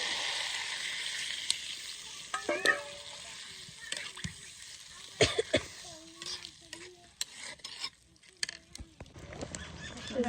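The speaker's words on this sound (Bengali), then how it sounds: "এখন দিয়ে দিই পরিমাণ মতো পানি।" Water poured into a pan of curry frying in a village kitchen sets off a loud burst of sizzling and splashing, mixed with stirring scrapes and intermittent voices or tonal calls in the background.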